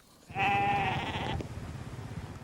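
A sheep bleats once in an open field, a loud drawn-out wavering call lasting about a second, followed by quieter low rumbling background noise.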